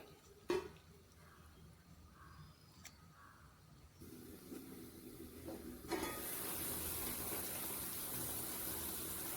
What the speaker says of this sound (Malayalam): കുറച്ച് വെള്ളം ഒഴിച്ച് അടച്ചു വെച്ച് വേവിക്കാം.